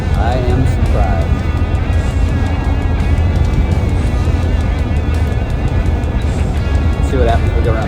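GMC Caballero running after sitting for over 20 years, being driven along with a steady, loud engine drone and road noise, while people talk over it throughout.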